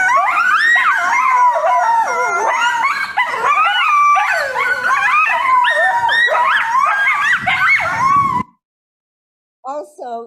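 Coyotes howl and yip in a loud, close chorus of rising and falling wavering cries and sharp yelps for about eight seconds, then stop abruptly before a brief final burst of yips.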